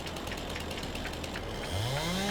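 A chainsaw cutting trees in a farm simulation video game runs as a dense, continuous mechanical rattle. Partway through, the engine pitch rises into a sustained buzzing whine.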